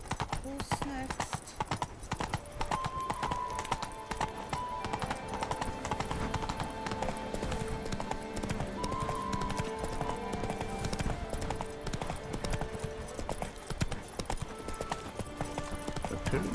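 Horse hooves clip-clop at a steady trot in The Witcher 3: Blood and Wine, a continuous rhythmic patter running under game music and character dialogue throughout.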